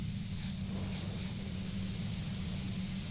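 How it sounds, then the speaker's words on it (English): Steady, loud broadband white-noise hiss from the Disco Elysium video game, unbroken for the full stretch with a few brief brighter bursts of high static near the start. "You hear through the white noise."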